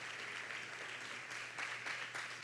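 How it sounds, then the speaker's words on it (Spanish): Faint, steady applause from a congregation at a church service, a soft continuous patter of many hands lasting throughout with no voices over it. "Vamos dándole un aplauso, por favor."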